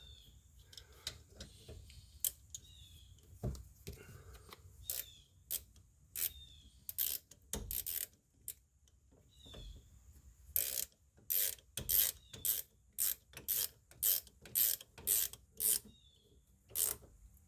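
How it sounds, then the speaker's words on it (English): Wrench or ratchet tightening rear brake caliper bolts on a 2016 Honda CR-V AWD, heard as scattered clicks and rasps, then a steady series of loud, rhythmic ratcheting bursts near the end, close up with no talking. "grab your wrench or ratchet or whatever you're using"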